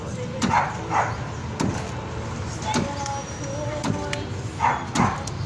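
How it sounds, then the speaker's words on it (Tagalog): A dog barks several times at a distance, sharp isolated yaps spread across the clip over a background hum with faint talk. "Ay, yung aso na naman."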